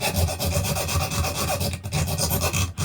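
Diamond file rasping on a Colt 1878 revolver spring, a close, steady grinding scrape in quick repeated back-and-forth strokes that carry on without a break.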